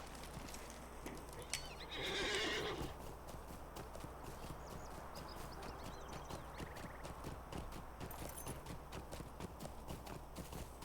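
Horse galloping in the online game Lord of the Rings Online: steady rapid hoofbeats clip-clop throughout, with a neigh near the start, loud and continuous with no talking.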